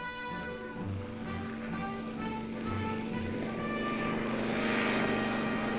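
A propeller-driven reconnaissance airplane flies back to base, its steady engine drone with a clear tonal hum growing slightly louder and fuller over several seconds.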